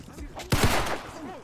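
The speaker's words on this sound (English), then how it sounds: "Oh, he's using a gun." A brief burst of gunfire in the Roblox game Criminality, one sharp loud crack followed by a short rattle, with voices talking around it.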